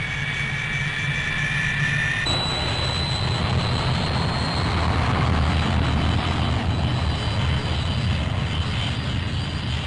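Australian-built Canberra jet bombers taxi onto the tarmac at an air base, producing a loud, steady engine roar with a high whine that shifts pitch partway through and continues unbroken.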